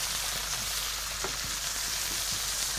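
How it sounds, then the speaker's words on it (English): Steady broadband sizzling of food frying in hot oil, continuous and fairly loud throughout with no voices. "Got the sizzle. Distribute that oil."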